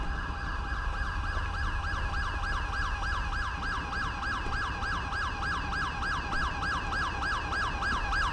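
Ambulance siren in the video game GTA 5, a continuous wailing two-tone sweep cycling rapidly and evenly at close range, loud and steady over a low engine rumble, with no talking.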